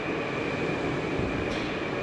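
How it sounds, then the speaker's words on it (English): A Moscow Metro subway train pulls in on the new circle line, a steady loud rumble with a constant high whine and brief squeal, close and continuous with no talk. "And here comes the train now."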